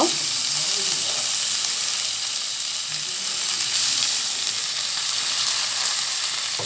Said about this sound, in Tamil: இது நல்லா வதக்கி கொடுக்கலாம் கொஞ்சம் நேரம் வதங்கட்டும் இது